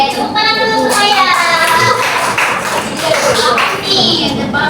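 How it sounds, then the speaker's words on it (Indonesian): A classroom of students claps for a classmate named Maya, a loud close burst of many hands patting together amid children's voices and chatter. "tepuk tangan dulu Maya"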